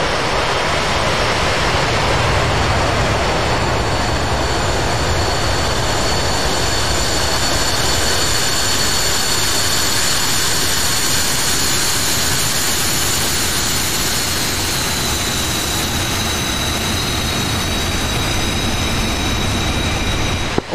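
Loud, steady roar of jet aircraft engines in the DCS World flight simulator, a continuous dense rumble with a high whine that holds unbroken throughout.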